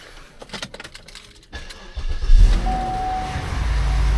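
A 2011 Cadillac DTS limousine engine cranks after a few soft clicks, catches and settles into a steady low idle, close and fairly loud.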